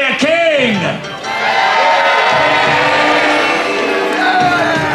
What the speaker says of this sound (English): Let me hear you cheer for your warrior king!